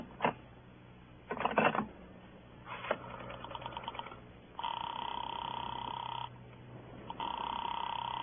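A telephone call to Sing Sing prison goes through on an old line: dialing clicks and bursts, then a steady ringing or connection tone that repeats, heard alone without voices.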